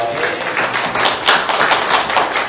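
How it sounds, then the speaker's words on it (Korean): Congregation applause during a Korean church worship service on Lunar New Year Sunday: dense, steady clapping from many hands that fills the room without a break for a few seconds. "감사의 박수 올려드립니다."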